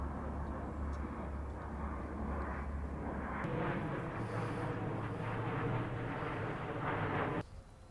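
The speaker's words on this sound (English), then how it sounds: "nothing says Miami like an airplane advertising someone's OnlyFans" A small propeller advertising airplane flying over Miami beach, a steady droning engine that holds for several seconds before dropping off abruptly near the end.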